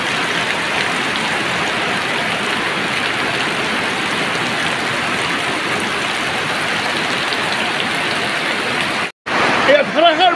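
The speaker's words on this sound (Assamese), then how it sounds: "এয়া ধাৰাসাৰ বৃষ্টি এই শৰৎকালৰ ধাৰাসাৰ বৃষ্টি" Heavy autumn downpour falling steadily, a dense continuous hiss of rain on surfaces, close and loud throughout with a brief break near the end.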